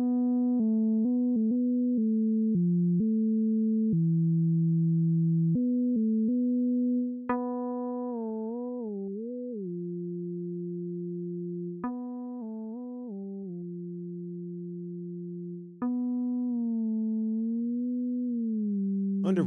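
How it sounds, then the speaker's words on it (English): A REFX Vanguard 2 synthesizer plays a melodic line with pure, sine-like tones, its glide setting making the pitch slide smoothly between successive notes, clean and alone over about twenty seconds. "The glide option creates a glide effect between the notes."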